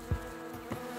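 Bees buzzing near a box they are being brushed into, a brief close drone with a couple of louder swells as insects pass, no voices.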